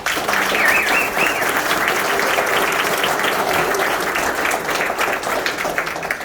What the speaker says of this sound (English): give a big round of applause and thanks to the Masonic members from Greensburg who came in and prepared all the fish and cooking for us